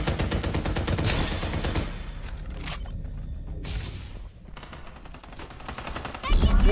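Rapid automatic gunfire bursts in the mobile shooter Farlight 84, loud sustained volleys that drop out briefly mid-fight then resume, ending with heavier close shots.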